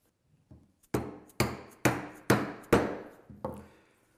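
A mallet drives a chisel into walnut to chop a mortise, with six sharp, close knocks at a fairly even pace, each ringing briefly before the next blow.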